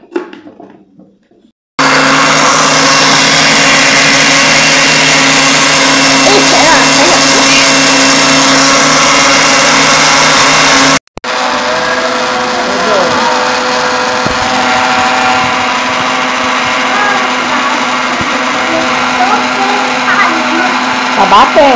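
A blender whirs loudly, blending frozen banana into ice cream. The motor drone runs steadily close by, stops for a split second, then starts again and keeps going to the end.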